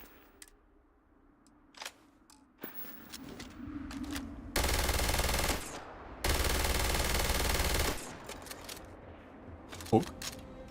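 Gunfire in the Starfield video game, two sustained loud bursts of automatic fire each lasting about a second, with scattered sharp single shots and light game sounds around them.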